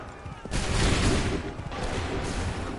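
A dense musket volley roars out at once in Assassin's Creed 3, a loud sustained burst of overlapping shots that tails off into lingering rumble.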